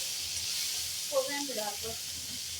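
Gongura with cumin and fenugreek seeds frying in a pan while being stirred, a faint, soft sizzle with light scraping, a few quiet voice-like murmurs in the middle.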